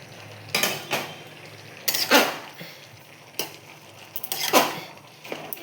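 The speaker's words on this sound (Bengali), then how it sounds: "একটু ঘেঁটে দিলাম ভালো করে" A ladle stirs cooked vegetable curry in a pot on a switched-off gas stove, with several distinct scraping and clanking strokes against the metal, each a short loud burst separated by quiet pauses.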